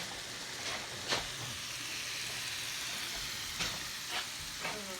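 Ground beef browns in a pan with a steady, soft sizzle, broken by a few sharp scraping clicks from a spatula chopping the meat. No one speaks.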